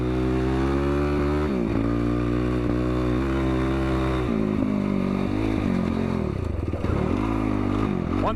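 A Yamaha YFZ ATV engine running on an Albatune tune, steady and loud up close with a strong droning tone, dipping and rising as the throttle shifts, with some rattle and scraping over the engine.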